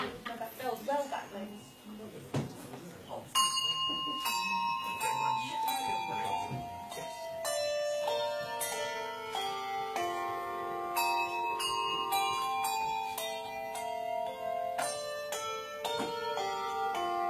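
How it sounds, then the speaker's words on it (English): A group of handbell ringers plays a tune, clear metallic tones overlapping and ringing out after someone speaks briefly at the start, with some handling noise early on. "if you see we're all ringing the same colour bells, then give us a huge cheer"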